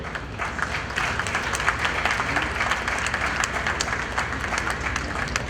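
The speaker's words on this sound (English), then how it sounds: "With a big round of applause" Applause from a large crowd at an awards ceremony at Manhyia, dense steady clapping filling the hall for several seconds with no break.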